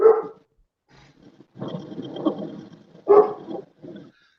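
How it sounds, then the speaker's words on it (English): An excited dog barks in short, gruff bursts with growly undertones, a few separated barks and a longer rough stretch, fairly close and alone. "We got to go see what dog's all excited about."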